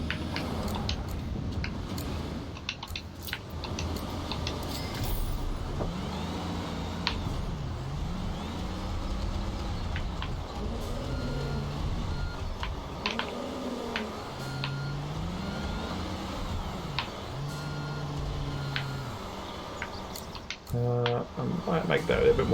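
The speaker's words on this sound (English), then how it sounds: "So I'm going to clean this part up so I can drive the truck there." A truck driving in the game Construction Simulator, a steady loud engine drone with repeated rising and falling revs and occasional mechanical clicks, under someone talking at times.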